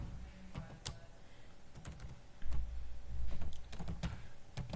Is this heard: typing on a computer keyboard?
yes